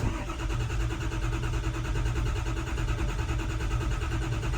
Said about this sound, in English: Sounds uniform all through its cranking.